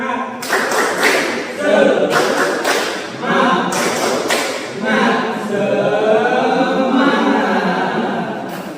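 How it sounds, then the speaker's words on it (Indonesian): A classroom claps the tepuk semangat rhythm together, loud, close bursts of group clapping in a patterned beat with short pauses, followed by looser, steadier applause. "Tepuk tangan kita semua."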